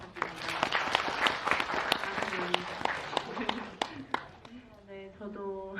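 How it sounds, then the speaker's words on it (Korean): An audience in a cinema auditorium applauds with scattered, crisp claps for several seconds at a film screening Q&A, then fades out as a voice begins speaking in Korean. "큰 박수 부탁드립니다."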